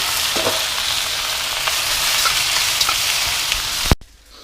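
Rice noodles fry in a hot pan for pad thai, a dense, steady sizzle up close with a few faint scrapes of stirring before the sound cuts off abruptly.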